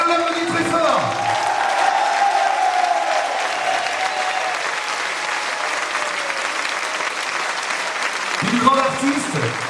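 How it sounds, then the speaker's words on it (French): Sustained audience applause at a small gala with a grand orchestra, continuous dense clapping throughout, with a voice heard briefly at the start and end. "Allez, on l'applaudit très fort."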